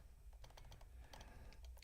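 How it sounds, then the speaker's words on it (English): Quick, irregular clicking of keys on a computer keyboard, faint and close, with a soft low hum underneath. "I was actually doing some typing."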